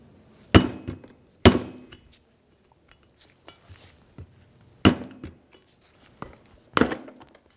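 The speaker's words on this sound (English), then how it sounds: "You may need to use a mallet to get the dust seal started." A mallet drives a screwdriver under a steering knuckle dust seal on a 2005-2015 Toyota Tacoma, giving four sharp, loud metallic strikes spaced a few seconds apart, with lighter taps and clinks between them.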